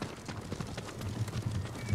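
Horses' hooves clop in an uneven, steady run inside the video game Ghost of Tsushima, a moderately loud, close rhythm of soft thuds over low background rumble, with no talking.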